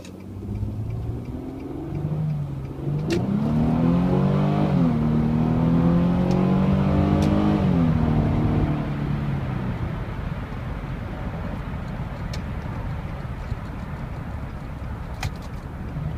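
An all-wheel-drive Infiniti G accelerates on the road, its engine climbing through a rising rev sweep, dropping at a shift and climbing again, then settling into a steady cruising hum with faint ticks.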